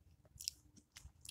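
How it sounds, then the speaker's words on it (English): Gum being chewed close to the mic, with soft wet smacks and clicks in short irregular bursts and a louder crunchy chomp at the end, no talk. "I'm gonna keep chewing my gum"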